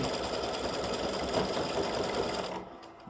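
A machine embroidering clover-shaped earrings hums close and steady in a continuous run of rapid stitching, then stops near the end, with no voices.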